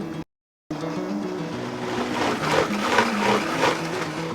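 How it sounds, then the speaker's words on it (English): A blender purees pitted, roughly chopped green olives into a coarse mash, its motor giving a loud, steady whirring grind after a brief silent gap at the start. "I'm going to blend it to a coarse puree."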